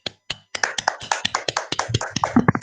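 A small classroom group claps briefly for a student, a few quick uneven claps after a short pause settling into a fast, steady rhythm of close, fairly loud hand claps.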